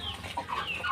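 Chickens clucking close by, a busy run of short squawky calls with faint farmyard noise behind.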